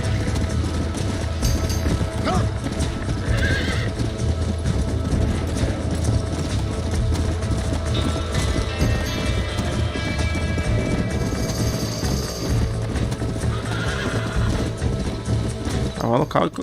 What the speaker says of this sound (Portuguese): O cavalo corre pra caramba,